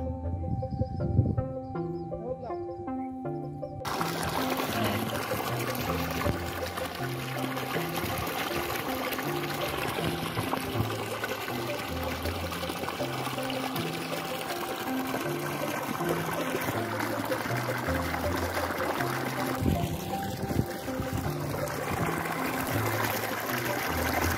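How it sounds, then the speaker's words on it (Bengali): Irrigation water rushes fast into a freshly planted potato field, a loud continuous gushing flow that holds steady throughout after a short tonal lead-in at the start. "পানিগুলা কত দ্রুত যাচ্ছে।"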